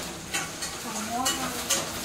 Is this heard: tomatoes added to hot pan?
yes